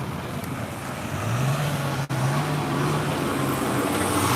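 A steady road roar with an engine drone rising in pitch, a vehicle approaching and passing close by amid continuous traffic noise.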